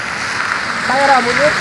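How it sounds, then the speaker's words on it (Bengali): Steady rain falls in Dammam, Saudi Arabia, a dense continuous hiss throughout the short stretch, with a voice briefly speaking over it near the end. "এই যে কি অবস্থা সৌদি আরব বৃষ্টি।"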